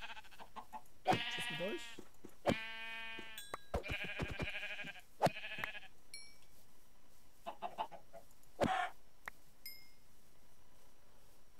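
Sheep bleats and chicken clucks from farm animals in the Minecraft video game, several short harmonic calls in a row during the first half, then sparser faint clucks, with a brief spoken line near the end.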